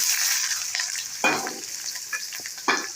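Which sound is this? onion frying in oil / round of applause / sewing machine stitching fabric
onion frying in oil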